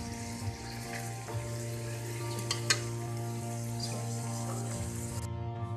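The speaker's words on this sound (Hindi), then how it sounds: "इसको भी हम 5 मिनट के लिए भून लेंगे कीमे में" Kachnar orchid tree buds frying in minced meat, a steady low sizzle with a constant background hum and a few faint clicks of a spoon against the pan.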